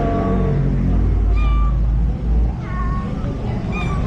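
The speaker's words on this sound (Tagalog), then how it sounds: "Pusa niya dyan." A domestic cat that recently gave birth meows several times, with about three short rising cries spaced over a few seconds above a constant low rumble.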